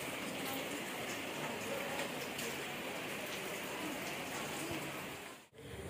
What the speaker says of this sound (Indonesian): sambil menikmati hujan seperti ini di lereng Merapi